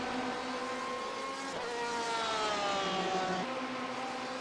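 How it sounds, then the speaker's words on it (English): A GT race car in the iRacing game laps Monza with a steady, loud engine drone whose pitch climbs and falls through gear changes, with other cars audible in a continuous racing din. "I could just listen to this car go around the track like forever."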